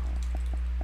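A few quick keyboard clicks tapped at an uneven pace over a steady low electrical hum.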